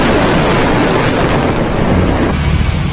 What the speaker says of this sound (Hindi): आसपास एक बड़ा धमाका हुआ है। उसकी आवाज बहुत तेजी से यहाँ पर आई है।